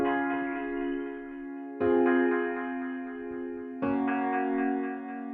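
A Soft Grand piano patch from a Korg Triton synth plays three sustained chords, each struck about two seconds apart and left to ring and decay, soft and alone with no voices.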